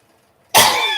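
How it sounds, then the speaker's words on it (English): One sharp, loud cough bursts out after a moment of near silence, close to the microphone. "Apologize for the coughing."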